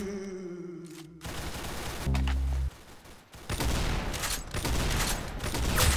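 Rapid gunfire in the Roblox shooter Arsenal, with sharp bursts of shots and a low blaring tone, growing louder and denser toward the end.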